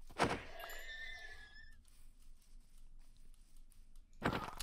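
A Minecraft horse whinnies once in a shrill, falling call, followed by quiet ambience and a dull thump at the end.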